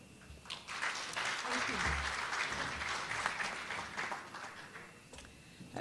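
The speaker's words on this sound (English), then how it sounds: "A good round of applause for Mr. Bai" Audience at a business breakfast applauds in a sustained round of clapping that swells and then thins toward the end, with scattered individual claps and some voices murmuring underneath.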